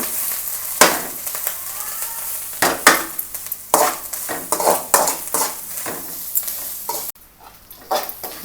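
Grated coconut sautéed in a pan on a low flame for egg kulambu, with repeated loud, close scraping and clattering stirring strokes over a soft sizzle, and no speech.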